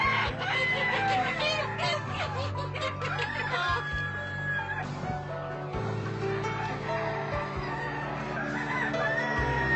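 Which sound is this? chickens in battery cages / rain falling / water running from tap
chickens in battery cages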